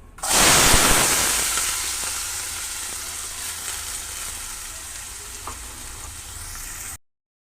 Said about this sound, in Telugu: ఆయిల్ అనేది వేడెక్కిందండి ఇప్పుడు మనం కోసి పెట్టుకున్న పచ్చిమిరకాయ ఉల్లిపాయ వేసుకుందాం